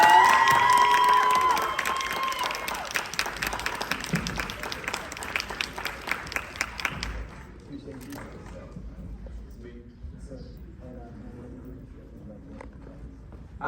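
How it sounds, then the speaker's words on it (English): Audience applause and some cheering for a speaker at a talk; crowd clapping runs loud for several seconds, then fades into quieter room noise with scattered claps. "I want you all to give a loud round of applause"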